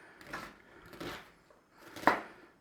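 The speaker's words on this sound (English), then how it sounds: "We're just going to fairly roughly chop the onion actually." An onion is roughly chopped on a board with a kitchen knife: three separate, soft chops spaced about a second apart, close by and quiet.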